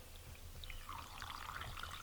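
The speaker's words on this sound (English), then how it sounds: "I'm going to pour this over my mint." Salt water pours steadily over mint with a soft trickling, splashing sound, quiet and close, over a low background hum.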